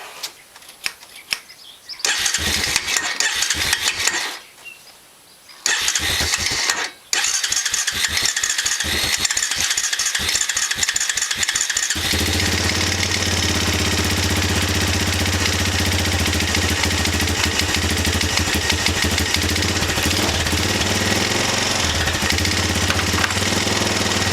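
A Honda Recon 250 ATV engine cranks in short bursts, sputters and cuts out, then catches and settles into a steady, loud, rattly idle that runs on without stopping.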